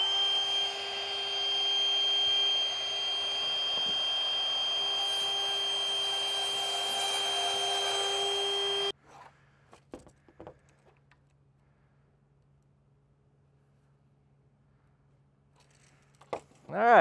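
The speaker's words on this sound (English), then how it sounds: "I'm gonna use our router bit here to take out the foam" A router with its bit cutting foam runs as a steady, loud, high-pitched whine for about nine seconds and then cuts off abruptly. Faint handling clicks and rustles follow in near silence.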